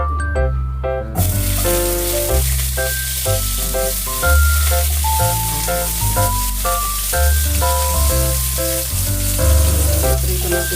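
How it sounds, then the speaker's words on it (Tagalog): Potatoes fry in oil for spicy pork caldereta, giving a loud continuous sizzle that surges after a quiet first second, with scattered pops and crackles and no talking. "Ipiprito natin konti ang patatas."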